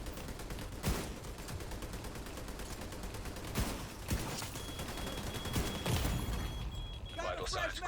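Rifle gunfire in the shooter video game The Division 2, with repeated sharp shot bursts over a dense, continuous game soundscape, plus a few louder cracks near the end.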